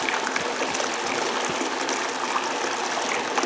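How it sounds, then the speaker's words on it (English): Water runs steadily through a gold ore cleanup setup for crushed gold-bearing rock, producing a continuous, fairly loud rushing and trickling flow with small splashy variations. "Nothing more exciting than watching water run."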